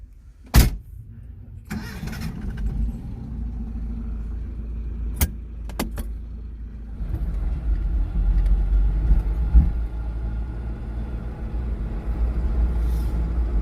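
Hyundai Pony classic car driving over speed bumps on a country road, a steady low engine and road rumble with a few sharp thumps and rattles as the wheels hit the bumps.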